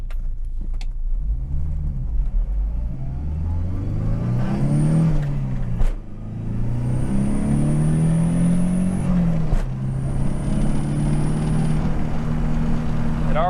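A Volvo 240 with a swapped T5 turbocharged engine accelerating on a test drive, engine note rising through several gear pulls with brief dips between shifts and a faint turbo whistle, heard from inside the car with occasional talking.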